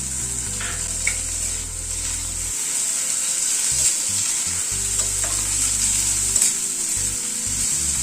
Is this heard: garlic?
yes